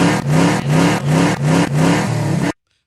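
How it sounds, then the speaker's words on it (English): Car engine revving in repeated surges, five rising pulses of throttle in quick succession, loud and close, before cutting off abruptly into silence. "Not like a car engine going like"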